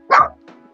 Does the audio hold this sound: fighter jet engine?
no